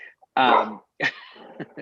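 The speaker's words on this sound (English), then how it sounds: "Incidentally, that's my dog barking" A pet dog barks inside a home, one loud burst followed by a shorter yelp and a few softer sounds, close by and alone with no talking over it.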